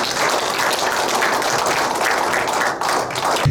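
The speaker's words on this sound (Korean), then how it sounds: "큰 박수 한번 부탁드리겠습니다" A seminar audience at a memory and brain health doctors' event claps steadily to welcome a guest speaker, a dense, even wash of applause lasting a few seconds with no voices over it.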